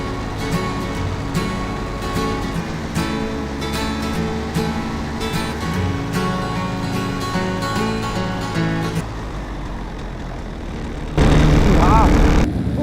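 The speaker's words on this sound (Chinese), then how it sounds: "这已经不是我们第一次驾驶雪地摩托" Snowmobile engine driving across snow in Greenland, a steady loud motor drone that holds throughout and surges louder near the end, with no talk over it.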